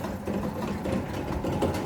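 A 2.5-litre four-cylinder turbo diesel engine in a 2012 Mitsubishi Triton idles steadily with a low, even clatter and rumble, no voices, over a couple of seconds.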